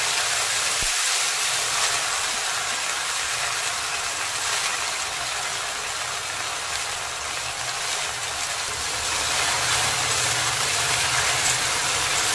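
Chopped jute greens (paat shak) hit hot mustard oil in a wok and fry with a loud, steady, close-up sizzle and hiss that holds for the whole stretch.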